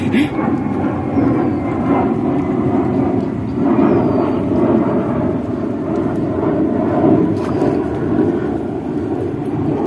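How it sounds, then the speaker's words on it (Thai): A fixed-wing airplane passes overhead above an outdoor fishing spot, its loud, steady broadband roar swelling slightly and filling the whole stretch with no break. "เสียงเครื่องบิน"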